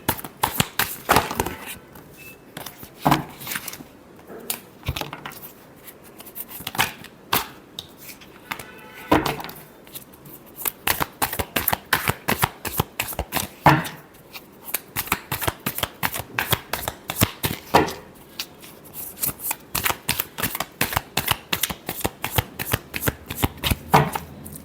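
Tarot cards shuffle continuously at close range, with rapid papery riffles and bursts of flicking that come in uneven waves and brief pauses, with no talking.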